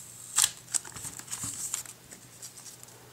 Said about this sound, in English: So let's just peel off this wrapper.